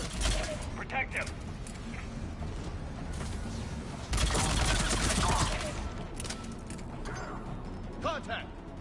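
Gunfire chatters through a Mass Effect 3 combat scene, a dense clatter of shots and mechanical clicks with a louder surge midway, while voices shout and talk over the fighting.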